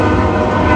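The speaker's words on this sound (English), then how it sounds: "Train go by?" A train passing close by with a loud, continuous rumble and a horn-like tone throughout, no voices.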